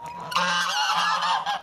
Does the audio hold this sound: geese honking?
yes